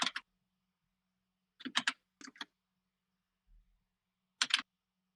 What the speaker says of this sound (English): Y'all hear my typing?